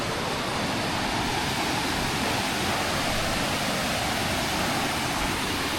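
Huay Kaew waterfall near Chiang Mai roars as a dense, constant rush of falling water, loud and close, with no pauses or other sounds over it.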